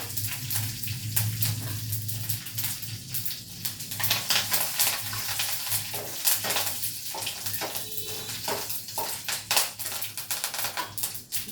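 Cumin, mustard seeds, dried chillies and curry leaves temper in hot oil, making dense crackling and spluttering with sharp popping bursts and a low steady hum beneath, close and fairly loud, with no voices.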